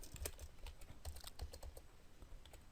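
Rapid typing on a computer keyboard while entering data into an Excel spreadsheet, with a quick run of irregular, close-up key clicks and a heavier final keystroke, with no voices.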